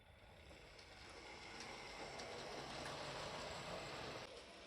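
Steam locomotive number 1401 pulls away on a model railway with passengers, a continuous broad rushing chuff and rumble building in loudness, steady and moderately close, then easing off.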